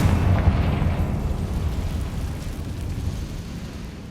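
Confringo fire spell blasting in Hogwarts Legacy, a loud rumbling explosion that hits at once and then fades into a long, dense roar of debris over a few seconds.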